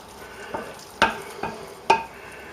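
Roast vegetable chunks being stirred in a baking dish, four sharp scraping clacks spaced about half a second apart over a quiet background.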